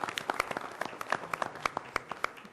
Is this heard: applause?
yes